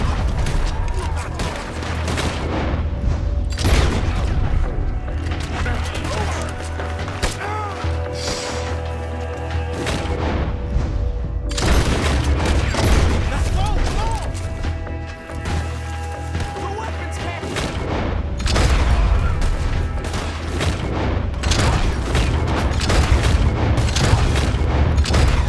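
Heavy gunfire and explosions in Red Dead Redemption 2 form a dense, unbroken roar of shots and booms that stays loud throughout, with voices faintly mixed in.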